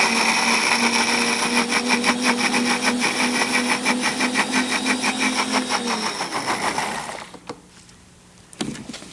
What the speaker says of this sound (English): So we blend this until it's satiny smooth.